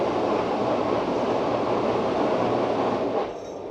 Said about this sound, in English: train just made that loud noise, and then we saw the steam behind the station house